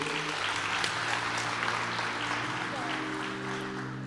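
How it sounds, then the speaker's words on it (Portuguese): A church congregation applauds during an event, steady clapping mixed with a voice speaking over it and faint sustained music underneath. "Você pode aplaudir o Senhor de novo."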